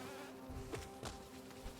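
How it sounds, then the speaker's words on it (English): Bee sound effect from the video game Hollow Knight: a soft, continuous insect buzz with faint flutters and clicks layered over a steady background tone. "The bee sound effect kind of reminds me of the wasps from Metroid Fusion."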